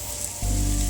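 A prime rib roast is set meat side down in a hot pan and bursts into a loud, sudden sizzle that holds steady as it sears.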